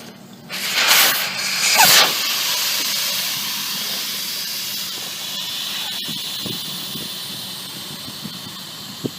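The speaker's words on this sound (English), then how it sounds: "just take it all the way out and let all the air come out" Air rushes out of an ATV tire's valve stem with the core removed. Two loud, close bursts of hiss open the clip, then a softer steady hiss carries on and slowly fades.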